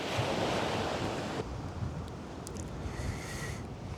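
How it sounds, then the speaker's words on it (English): Steady easterly wind on a beach at Bexhill while sea fishing, a continuous loud broadband rush of wind and surf buffeting the microphone, dropping slightly in intensity partway through with faint higher hiss. "Easterly wind's picking up now."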